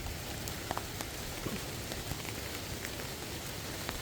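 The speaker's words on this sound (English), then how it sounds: "Oh, it's starting to rain. It's raining." Rain begins falling on a front yard garden in Missouri in late spring, a soft, even hiss of drops with scattered light pattering ticks, fairly quiet and continuous with no voices.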